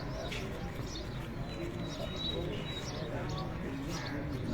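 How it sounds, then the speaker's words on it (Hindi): Pigeons settling on a rooftop coo and flutter softly among steady background noise, with faint chirps and a voice talking at times. "11वां कबूतर भी उत्ते आए हैं जी"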